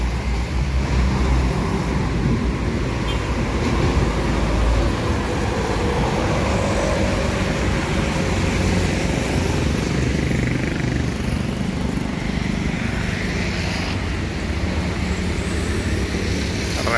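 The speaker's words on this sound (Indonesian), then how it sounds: "didominasi kendaraan-kendaraan pribadi," Busy morning road traffic of private cars and trucks, a dense continuous roar of passing engines and tyres, close and loud, with a heavier rumble from a large vehicle near the start.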